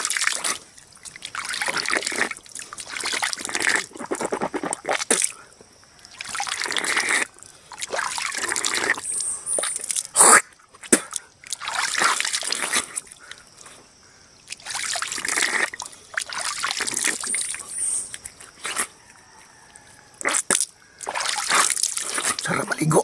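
Cold farm water flowing and trickling in bursts of splashy, bright trickle sound separated by brief quieter gaps, close to the listener, with voices talking intermittently over it.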